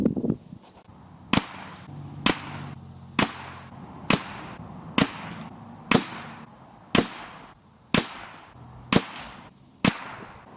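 Eleven sharp subsonic rifle shots from a CZ455 firing Aguila Sniper Subsonic ammunition at a 50-yard range, each a crisp crack spaced about a second apart, loud and alone with no talking.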